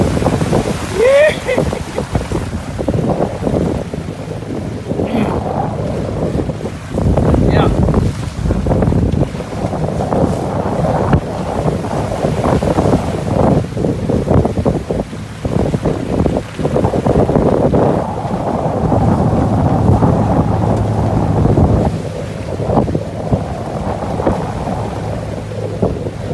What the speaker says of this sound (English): Got some swells in here, making life difficult.